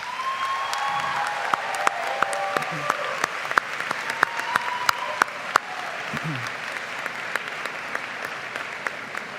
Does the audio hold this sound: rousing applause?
yes